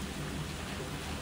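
Steady rain falls outdoors at a car-camping site, a constant dense hiss of drops on surfaces, close and even throughout, with nobody talking.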